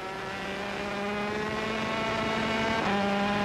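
A 250cc Grand Prix racing motorcycle screams at high revs across the finish line, its engine whine rising steadily in pitch and loudness with a sharp gear change near the end, with no voices over it.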